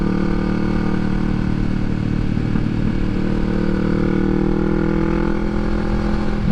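A motorcycle engine hums steadily up close, a continuous mid-pitched drone with slight changes in revs.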